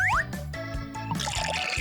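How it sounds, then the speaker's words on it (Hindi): Water pours into a container in a steady, close liquid stream, with a brief rising gurgle at the start and trickling and splashing after it, alone with no talk. "पहले कंटेनर को पानी से भरें।"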